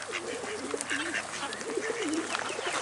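Pigeons gathered on a sundial at a marsh in Sechelt, British Columbia, coo in repeated soft rolling phrases, close by, over a steady outdoor background.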